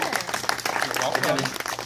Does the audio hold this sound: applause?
yes